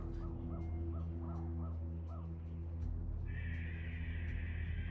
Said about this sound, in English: Are you hearing a crow?